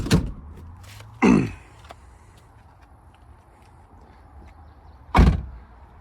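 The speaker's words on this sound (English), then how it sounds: "The rear seats do fold down." Rear seats of a 2008 Toyota Solara SLE being folded down, three loud close thumps and clunks separated by quiet pauses, with faint rustling in between.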